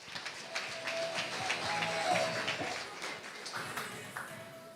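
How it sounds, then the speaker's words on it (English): Audience applause for Prof. Reddy at a launch event, a moderate wash of clapping that swells in the middle and tapers off, with faint voices underneath. "Let's give him another round of applause."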